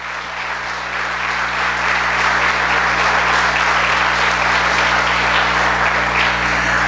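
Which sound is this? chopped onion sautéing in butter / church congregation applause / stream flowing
church congregation applause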